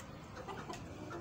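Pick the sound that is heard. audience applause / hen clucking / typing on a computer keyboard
hen clucking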